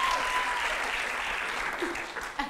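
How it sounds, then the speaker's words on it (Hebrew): A school audience at a 2024 end-of-year play applauds in a dense, steady wash of clapping that holds evenly and then thins slightly toward the end. "כפיים!"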